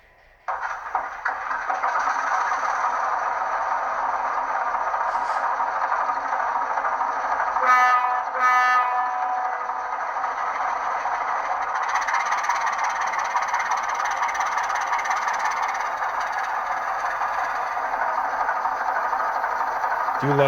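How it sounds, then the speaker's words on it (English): A Bowser HO-scale model locomotive, factory-fitted with sound, gives a steady mechanical hum and chuff throughout, with a brief burst of whistle or horn-like tones about halfway through. No one speaks over it. "It's a good sounding engine, good running engine. Bowser makes nice stuff."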